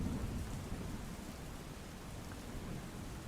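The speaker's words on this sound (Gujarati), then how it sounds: "જે રીતે વરસાદ પડી રહ્યો છે અવિરતા વરસાદ પડે છે" Heavy monsoon rain pours down in Maliya Hatina, Junagadh, Gujarat, in a dense, unbroken roar, with a deep rumble underneath, steady throughout and no voices.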